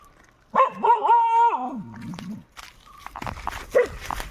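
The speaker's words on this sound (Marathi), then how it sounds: "कुत्रे भुकायला लागला" A dog barks and whines briefly nearby during village wheat threshing, followed by a few softer yips and scuffling sounds.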